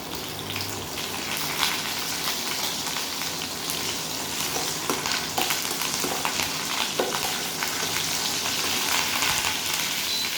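Black mustard seeds, dried red chillies and curry leaves sizzle and crackle loudly in hot oil in a kadai for peanut chutney, a dense continuous frying hiss with scattered pops.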